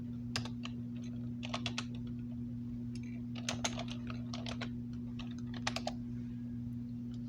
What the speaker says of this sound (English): we're gonna type in on the computer